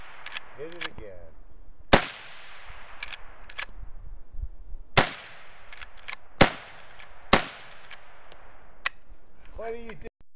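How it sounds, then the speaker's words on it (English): A Ruger 10/22 rifle fitted with a banana clip fires single sharp cracks spaced a second or more apart, loud and close outdoors, with voices heard briefly at the start and end. "Now we're shooting the Ruger 10-22 with banana clip."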